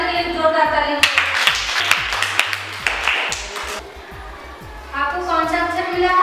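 Children in a classroom clap loudly together in a burst of quick, sharp claps lasting a few seconds, with a voice talking before and after.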